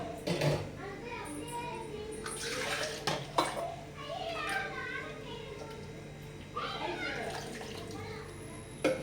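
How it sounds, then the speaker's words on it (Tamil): Water poured into a blended homemade chutney of coriander, mint, ginger, garlic, tomato, onion and curry leaves, giving a close, intermittent splashing and sloshing while someone talks over it. "இன்னும் கூட கொஞ்சம் தண்ணி ஊற்றிக்கலாம்."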